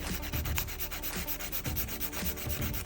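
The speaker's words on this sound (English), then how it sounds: "I went ahead and used a 100-180 grit file from Treamlyn" Acrylic nails being filed with a 100-180 grit nail file: steady, rhythmic back-and-forth rasping strokes, close and continuous, with no voices.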